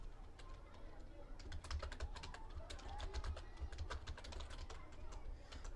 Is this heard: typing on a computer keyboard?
yes